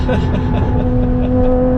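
A 1995 BMW E34 M5 Touring engine runs loud and steady, a strong low hum holding at a constant pitch with a faint rising tone, close by throughout.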